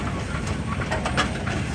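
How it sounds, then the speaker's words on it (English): A single-cylinder steam engine running in an antique tractor and steam engine parade in Berryville, Virginia, gives a steady, close hiss with soft rhythmic chuffing pulses throughout, with no voices. "Single cylinder engine, steam engines are very smooth to operate."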